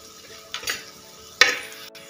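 Spoon stirring turmeric and coriander powder into sardine pepper masala in a pan, with a faint sizzle underneath and two brief scraping strokes against the pan.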